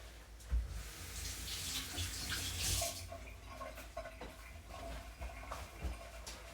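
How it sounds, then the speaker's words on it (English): Tap water runs steadily into a kitchen sink as hands are washed after cooking pakoras, a continuous close hiss with faint clinks and shifting splashes, no voices. "I'll wash my hands in case there's any powder from the gloves"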